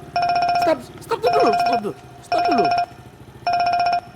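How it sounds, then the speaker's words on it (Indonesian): A telephone ringtone sounds in four even bursts of a bright repeating electronic tone, close and loud, while people talk between and over the rings. "Telepon ini."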